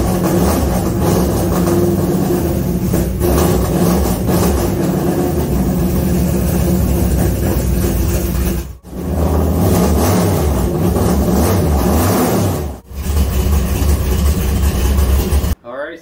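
A car engine fitted with a homemade universal gas pedal and a budget exhaust fires up and revs, running loud and steady with two brief cutoffs and a short drop at the very end.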